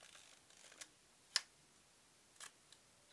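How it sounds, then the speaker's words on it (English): Vintage film camera shutter firing with a single sharp mechanical click, near and quiet, with a few faint softer clicks from the mechanism before and after. "the shutter will now operate"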